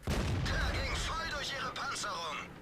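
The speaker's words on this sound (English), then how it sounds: "just firing every shot I can" Panther tank cannon shots in the World of Tanks game, heavy booming reports layered under someone talking continuously, the firing partly masked by his voice.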